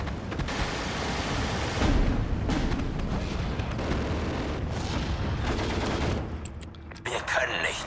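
Dense battlefield din from Steel Division II: continuous gunfire and heavy artillery shells landing around, a steady loud roar of overlapping blasts and bursts that thins briefly near the end before flaring again.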